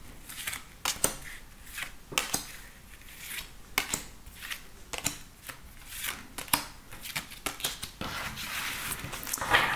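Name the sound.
drawing and shuffling tarot cards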